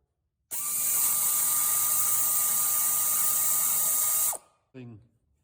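A power tool on a 2008 Mazda RX-8 removes a 12mm bolt beneath the rear strut. It gives one steady, loud high whine of about four seconds and ends in a brief rattling burst.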